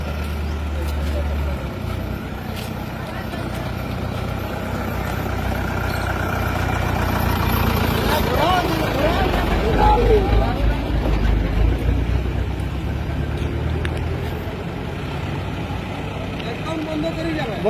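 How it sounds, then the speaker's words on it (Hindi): An election campaign vehicle's engine rumbles steadily as it backs up, a continuous low drone with people talking nearby over it. "गाड़ी पीछे जा रही है।"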